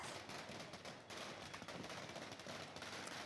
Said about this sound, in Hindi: क्वार्टर के गेट पर आज जमकर आतिशबाजी भी की गई